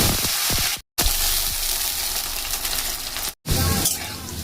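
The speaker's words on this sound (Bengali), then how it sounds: "চলুন আগে আমি উচ্ছেগুলো ভেজে নিই" Bitter gourd (uchhe) pieces frying in oil for a village-style feast shukto, giving a dense, steady sizzle close by that cuts out twice for a split second.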